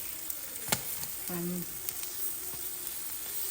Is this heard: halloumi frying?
yes